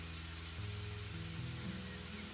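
A spray nozzle waters plants in House Flipper with a steady, soft hiss of mist. Faint low tones from background game music sit underneath it throughout.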